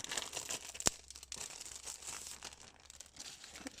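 Craft supply packaging is opened up close, with soft, continuous crinkling and rustling plus one sharp tearing snap, all quiet and with no talking.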